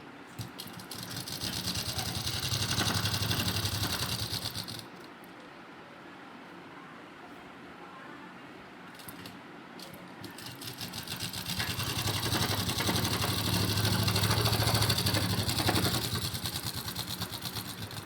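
A sewing machine stitches the seam of a pair of men's underwear. It runs in two long, steady, close-up stretches with a quieter gap between them, and the motor's low hum carries throughout.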